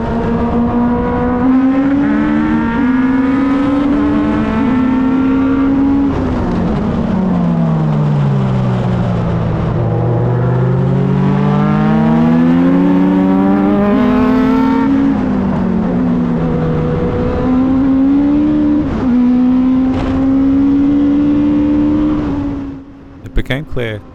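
Race car engine accelerating hard out of the first corner of a race, revving up through the gears with rising and falling pitch, loud and close throughout, with a brief shift near the end.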